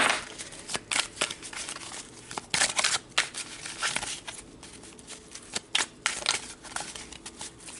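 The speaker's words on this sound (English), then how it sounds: "So let's pull some tarot cards." Tarot cards being shuffled by hand, a series of quick papery riffles and flicks in irregular bursts, fairly quiet and close, with no talking.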